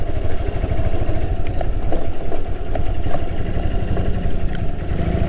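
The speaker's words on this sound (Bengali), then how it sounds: "বাইক রাইড করতেছি।" A motorcycle engine rumbles continuously while riding on a rough, poorly kept road, picked up by a helmet-mounted microphone, with loud low throbbing, wind buffeting and some rattling clatter, and no talk.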